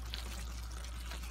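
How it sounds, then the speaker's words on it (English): Water is poured into a pot of Ugandan beef stew, a soft, steady, quiet pouring wash over a low constant hum, with no talking. "I want to add some water"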